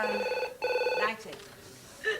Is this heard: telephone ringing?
yes